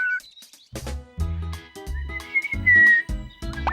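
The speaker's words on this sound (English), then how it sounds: "The bristly whistler was whistling to her." Bright, clear whistling rises and falls in short phrases over a rhythmic low backing, with a sustained whistled note near the end.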